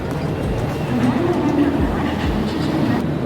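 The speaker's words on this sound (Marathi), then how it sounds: "आता प्लॅटफॉर्मवरती या साईडला ट्रेन लागलेलीच आहे" Rumbling train noise at a busy, crowded suburban station platform in Borivali, a steady low roar with a few clunks and a faint tone, voices mixed in.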